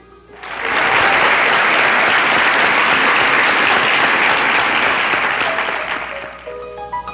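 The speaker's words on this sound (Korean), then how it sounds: "우레 같은 박수 소리가 터졌습니다" Thunderous applause swells in within a second and holds as a dense, steady roar of many clapping hands before tapering off near the end.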